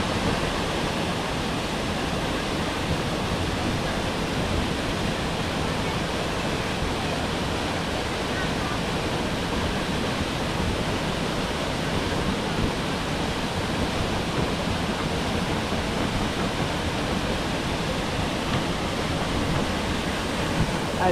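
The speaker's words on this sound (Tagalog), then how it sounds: "Grabe, ang lakas nung ano nung tubig." Strong rushing water from a river or falls where people are bathing in cold water roars as a dense, unbroken wash of noise, close and loud, steady throughout with no clear speech over it.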